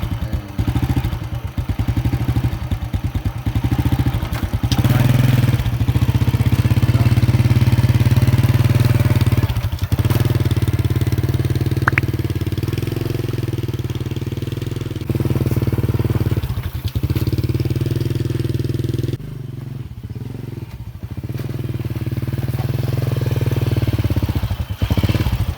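A saleng, a motorcycle tricycle, rumbles loud and close while being ridden, a steady mid-pitched engine drone that swells and eases with throttle changes, with wind buffeting and occasional clatter.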